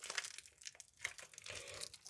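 Crinkling foil wrapper of a football trading card pack being pulled and torn open by hand, faint and close, with short bursts of rustling and crunching.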